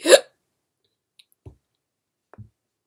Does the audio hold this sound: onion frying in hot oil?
no